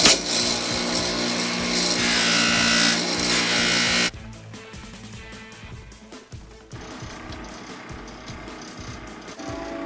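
A forged knife blade is pressed against a spinning buffer wheel in a knife-making shop, a loud high whirring grind for about four seconds before it cuts off, followed by quieter shop clatter and handling noises.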